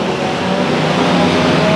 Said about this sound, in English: The car that was just on fire is pulling back out.